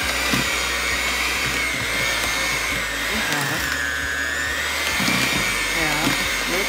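An electric mixer whirs steadily through peanut butter chocolate chip cookie dough. The motor drones close and loud with small rhythmic knocks as the dough turns, and a voice speaks briefly over it.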